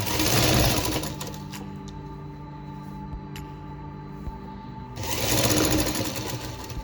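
A sewing machine stitches the side seam of a small baby vest, running in loud, rapid bursts at the start and again near the end, with a quieter mechanical hum between them.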